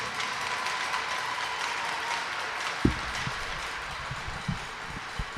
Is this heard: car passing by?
no